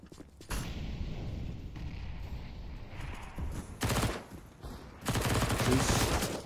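Rapid bursts of rifle fire from a competitive CS:GO match on the Nuke map, sharp clustered shots rattling in several volleys over a low background hum of game ambience.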